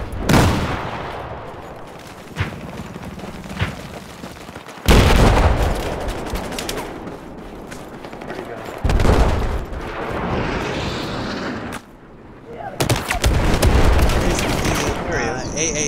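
Battlefield 4 gunfire on the Golmud Railway map, with dense overlapping bursts and booms throughout, several sharp loud shots and rattling fire, loud and continuous with brief lulls.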